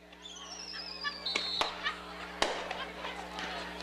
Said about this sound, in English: Mr. Carl Leach might run out of fireworks tonight. Those things are going right now.